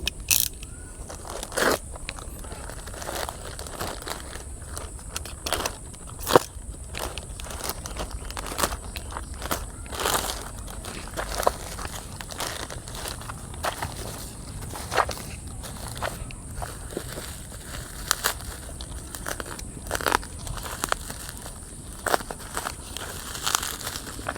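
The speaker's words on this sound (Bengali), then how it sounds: "এখন আমরা এইটাই আনবক্সিং করতে যাচ্ছি চলেন ভেতরে কি আছে দেখি" Packaging for a new vape crinkles and rustles as it is opened, with scattered sharp crackles, taps and scrapes over a quiet room background, close and moderately soft.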